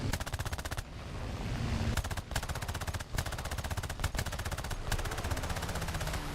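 Rapid automatic gunfire in a video game, dense rattling bursts that run almost continuously with short breaks, loud and close, with no talk.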